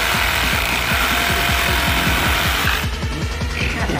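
A Sawzall reciprocating saw cuts through a frozen ice cream cake, its rapid steady stroking rhythm loud and close for the whole stretch, the blade's rasp shifting slightly near the end.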